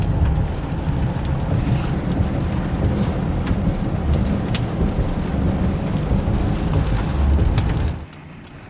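Heavy rain falls steadily in the mountains near the old Rainier Bridge in wintry weather. A dense, loud roar of rain runs for about eight seconds, then drops off abruptly to a quieter background.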